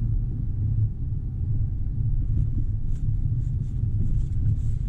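Low continuous engine rumble from a 400 bhp eight-seat Land Rover Defender 130 driving through mud ruts, steady and close, with faint creaks and knocks above it and no talk.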